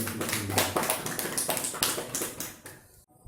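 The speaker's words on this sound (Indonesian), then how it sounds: "Terima kasih, tepuk tangan." Applause from a training-session audience after a hygiene presentation: dense, steady clapping with repeated sharp taps, moderately close, stopping abruptly near the end.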